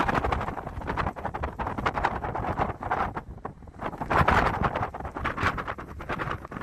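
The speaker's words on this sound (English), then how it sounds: "It's very, very windy today." Strong wind on a mountain ridge near Lava Butte, Lake Mead National Recreation Area, buffets the microphone in heavy, gusting roars, with deep rumbling low end and no voices.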